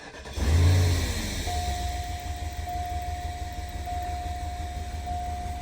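A car engine with its fuel pump not yet wired to the ECU cranks and fires for the first time, a loud low rumble catching near the start, then settling into a steady idle with a thin whine running on top.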